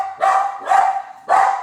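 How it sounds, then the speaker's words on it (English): Dogs bark loudly and close by in a home, three sharp barks in a quick irregular sequence with no voices over them. "Too many dogs, right?"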